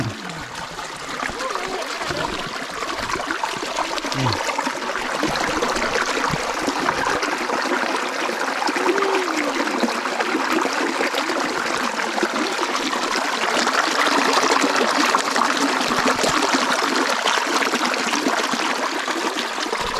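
A small waterfall in a forest stream pours steadily, a continuous broadband rush of water that holds for the whole stretch with slight swells, close and fairly loud, with a brief murmur of voice.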